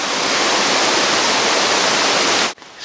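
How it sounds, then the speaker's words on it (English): A waterfall rushes beside a steep mountain trail on Mt. Washington, below treeline among evergreens, as a loud, dense, continuous roar that cuts off abruptly near the end. "those trickles turned into real waterfalls, and Christopher did great."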